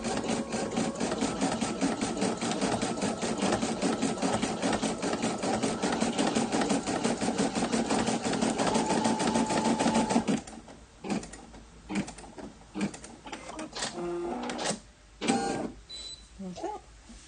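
Sewing machine stitching continuously at a fast, even rhythm for about ten seconds, then halting into scattered clicks and handling noises.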